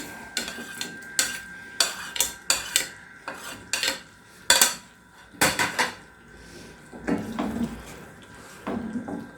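Paneer stirred in a pan for paneer Afghani: repeated sharp clanks and scrapes of a utensil against the metal pan in irregular bursts, close and loud, with a faint sizzle underneath and no talking.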